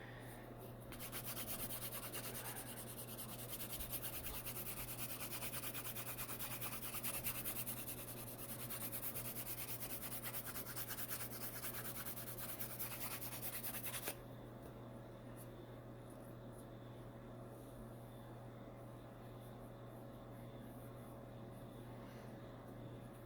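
Continuous scratchy rubbing of sandpaper on a wooden table, hand sanding, steady and close, that stops partway through, leaving a quiet hum.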